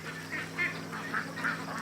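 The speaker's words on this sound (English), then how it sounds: "Looks like a bunch of ducks coming back from the lake" A flock of ducks returning from a lake gives repeated honking calls in short bursts over about two seconds, moderately close, with a faint steady hum underneath.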